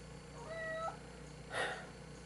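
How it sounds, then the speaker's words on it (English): A cat beside a tabletop board game gives one short, faint, tonal meow, then a soft brief rustle follows in an otherwise quiet room with a low hum. "I can now see that there is a cat in my shot"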